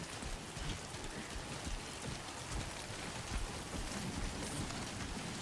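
Steady rain pours across the open landscape of the video game Death Stranding 2, a dense, even hiss of drops with no breaks, moderately loud and continuous throughout.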